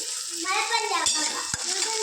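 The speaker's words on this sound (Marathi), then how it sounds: "तेलात जरा मोहरी फोडणी देऊन कांदा मिरची आणि कडीपत्ता भाजायला ठेवला आहे मी" Onion, green chilli and curry leaves frying in oil after a mustard-seed tempering for poha, giving a steady close sizzle with a couple of sharp utensil knocks and a voice over it.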